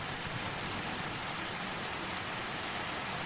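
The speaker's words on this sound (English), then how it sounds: "The afternoon rain has started to fall as you make your way down the quiet village street." Rain falls steadily on a quiet village street, an even hiss of drops with a couple of sharper individual splashes standing out, close and continuous with no voices.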